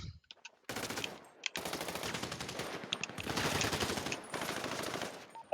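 Rapid automatic gunfire rattles in long sustained bursts in a roleplay video game, loud and continuous with brief gaps between volleys.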